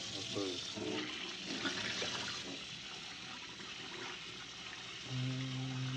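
Running water from a tap splashing as a teapot is rinsed, a steady close wash of water through most of the clip with a faint hum near the end.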